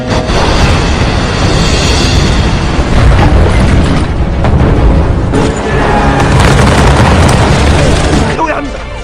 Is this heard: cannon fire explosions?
yes